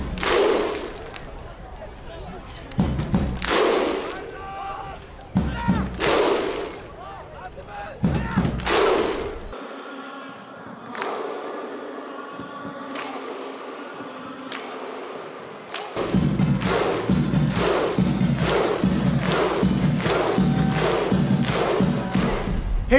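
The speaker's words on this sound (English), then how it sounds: "we're going to be showing you this new chant called the Slow Clap" Crowd in a school gym doing the Iceland-style slow clap chant: loud, evenly spaced group claps with a booming roar and a steady clap rhythm, with hall reverb and crowd voices.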